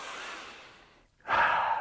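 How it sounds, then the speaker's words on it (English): Close breathing during a stretching session: a long, airy exhale slowly fading out, a brief silent pause, then a sudden, stronger rushing inhale. "Breathing."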